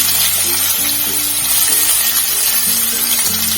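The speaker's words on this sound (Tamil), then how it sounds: "இப்ப நம்ம நறுக்கி வச்சு வெங்காயத்தை போட்டுடலாங்க." Chopped onions sizzle loudly in hot oil already seasoned with mustard seeds and fennel in a pan for Tamil potato poriyal, a steady close frying hiss with a faint low hum beneath.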